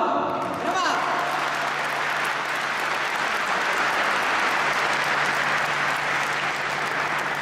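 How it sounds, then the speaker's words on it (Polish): Sustained applause from an audience at a speedway team's season presentation, dense and steady throughout, with crowd noise mixed in. "Brawa!"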